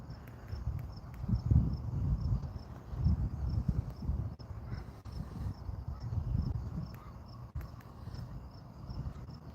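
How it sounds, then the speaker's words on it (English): Crickets chirp faintly at night from a porch, a thin regular pulsing trill carried under a louder low rumbling background of soft thuds and shuffling. "You can hear the crickets chirping."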